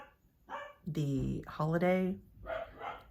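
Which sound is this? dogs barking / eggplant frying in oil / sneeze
dogs barking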